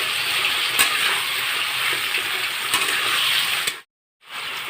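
Tomatoes go into a frying prawn curry masala, Odia style, raising a loud, steady close sizzle that continues for several seconds, breaks off into sudden silence, then resumes.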